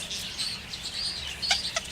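A large rooster held in someone's hands during vent trimming lets out short, bright chirping calls, a few brief bursts near the microphone with louder squawks toward the end.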